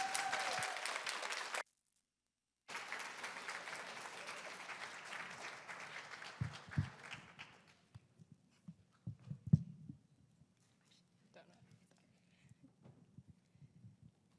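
An audience at an Asian Pacific Islander South Asian American ceremony applauds. Dense, crowded clapping fills the first half with a brief break, then thins into scattered, fading claps and near silence.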